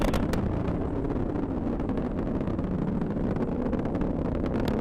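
Atlas V 551 rocket with its RD-180 engine during ascent, a steady broadband roaring rumble, dense and loud throughout with no breaks.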